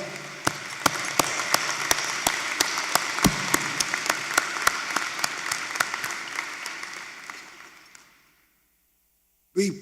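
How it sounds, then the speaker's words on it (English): Audience at a university commencement ceremony claps steadily for graduates, a dense wash of applause with sharp individual claps that fades out toward the end, followed by brief silence. "Graduates, we applaud you."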